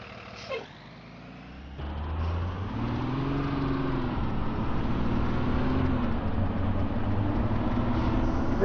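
A bus in a video game idles, then its engine rumbles and builds as it pulls away, a steady near drone throughout, with a faint brief hiss early on; no voices.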